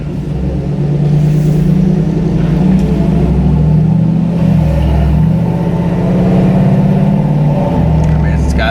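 A 2019 Chevrolet Silverado fitted with an AFE cold air intake pulls away and accelerates, its engine rumble steady and loud from inside the cab, rising in a couple of surges over continuous road noise.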